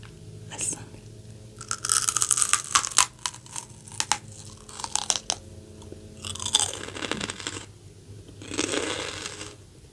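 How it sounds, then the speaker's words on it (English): Raw washed celery stalks crunch loudly up close in a run of crisp, irregular bites and chews, with wet snapping and tearing between them and short pauses. "I actually washed some so I can crunch on it."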